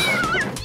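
A cat gives a single drawn-out meow, high and wavering, close and fairly loud, with faint background noise and no talking.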